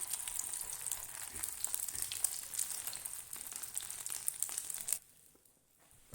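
Aloo tikki sizzles and crackles steadily in oil on a hot tawa, a dense continuous fry that cuts off abruptly near the end, leaving near silence.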